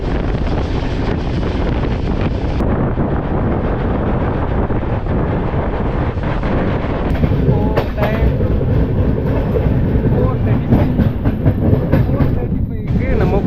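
A Chennai–Coimbatore train rumbles steadily along the tracks, heard on board with continuous wheel noise and rattling, buffeted by wind across the microphone throughout.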